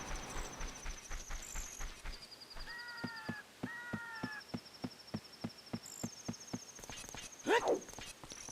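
Horse hooves in a video game, a steady clip-clop of evenly spaced hoof strikes lasting several seconds, with buzzing, insect-like game tones above them and a short chirping sound near the end.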